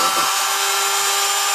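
Dremel rotary tool cutting through the plastic carriage release arm of a Smith Corona manual typewriter, a loud, close, steady high-pitched grinding whine with a constant tone throughout.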